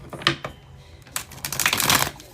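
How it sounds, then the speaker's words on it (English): Tarot cards shuffled by hand during a reading, giving bursts of crisp riffling and slapping clicks in two clusters, close and fairly loud with no talking. "Let me just get a good shuffle in there."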